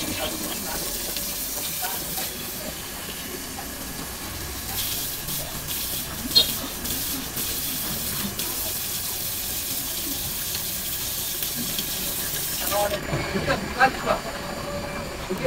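Tap water runs in a steady, broadband hiss during water sampling at an outdoor tap beside a school security post in Makassar. The flow stays constant throughout, with some brief louder splashes and clatter toward the end.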